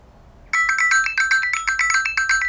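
A Google Pixel phone ringtone plays a bright, repeating electronic melody in quick pulses, loud and close, with nothing else underneath.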